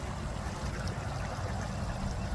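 Pond water flowing through filter chambers, filling one and spilling over into the next, as a steady, even rushing trickle that holds at the same level throughout with no other sounds.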